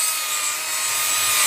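A Lazer Z mower blade edge is sharpened with light passes at an angle, making a continuous bright, hissing scrape that holds steady and close with no pauses.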